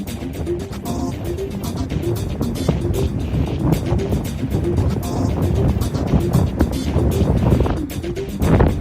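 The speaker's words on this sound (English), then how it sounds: "Wow, windy and cold." Heavy wind buffets the microphone in rough, rumbling gusts that continue throughout, loud and close, with no clear speech.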